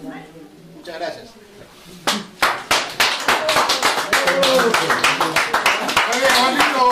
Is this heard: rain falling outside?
no